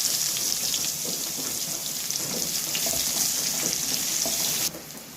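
Dried chilli, whole cumin and onion fry in hot oil, a loud steady close sizzle with faint scraping of a spoon, cutting off abruptly near the end.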